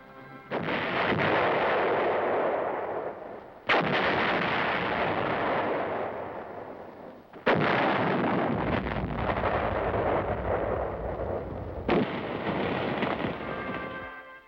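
Heavy sustained gunfire and artillery, loud and continuous, with sharp blasts marking new bursts roughly every few seconds.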